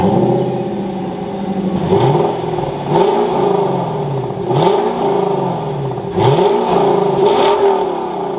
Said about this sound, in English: let's fire this up now and take a listen to that NA V8